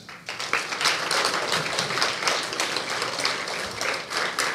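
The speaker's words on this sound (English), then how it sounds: "They all deserve our applause." A large audience at an all-day Shiva event gives sustained applause for more than 200 students and their teachers, with dense, steady clapping that fills the room without a break.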